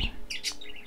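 Pet birds indoors give a few quick, high chirps and short calls, fairly faint over a soft room background, with no talking.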